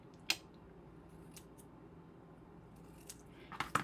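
Paper card cut with scissors during card making: a sharp snip near the start, then a quick cluster of close snips toward the end, with a quiet room between.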